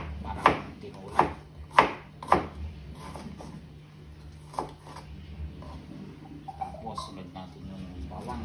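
Ginger being chopped on a wooden board, four sharp close knife strikes in quick succession followed by a few lighter taps, with a person talking throughout.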